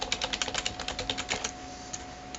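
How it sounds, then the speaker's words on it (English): A computer keyboard is typed on nearby in a quick burst of crisp key clicks, then a couple of isolated taps, with no talk over it. "simply type in Myspace layouts"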